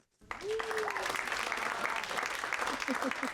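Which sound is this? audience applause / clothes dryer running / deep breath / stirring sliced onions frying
audience applause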